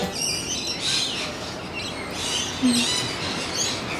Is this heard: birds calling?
yes